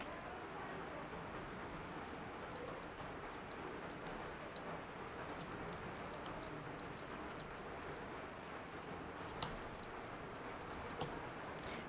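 Soft, quick keystrokes tap on a computer keyboard while an email address is typed into a mail setup form, faint and irregular against a quiet room hum, with no voices.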